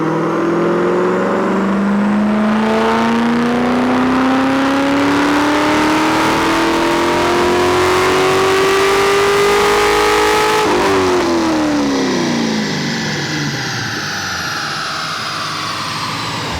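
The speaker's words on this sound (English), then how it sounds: "Like it has a resonator instead of a muffler. Stock exhaust sounds good." A stock car exhaust fitted with a resonator in place of a muffler revs loudly and steadily, pitch climbing through a long pull before dropping off as the throttle closes, close and alone with no talk.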